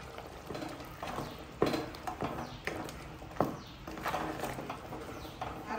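Ground onion paste being poured into a pot of simmering country chicken (nattu kozhi) curry, with close, irregular wet slops, clinks and scrapes over a steady low background, and no talking.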